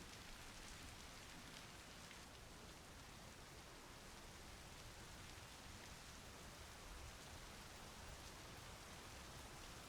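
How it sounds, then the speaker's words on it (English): Steady, dense rain falls continuously in the video game Before the Green Moon, a uniform hiss of drops with no voices over it. "Oh wow, the rain's really high."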